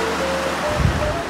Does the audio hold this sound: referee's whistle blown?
no